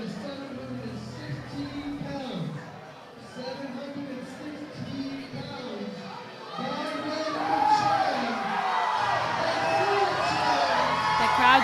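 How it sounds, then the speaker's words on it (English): A crowd at a powerlifting meet cheers and whoops after a lift, the noise swelling louder toward the end, with a voice talking over it. "The crowd's really excited."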